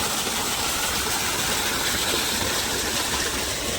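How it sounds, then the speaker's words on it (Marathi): A farm water pump motor runs steadily while water gushes out in a continuous broadband rush, loud and close with no pauses. "मोटरीचं पाणी मित्रांनो मस्त पैकी"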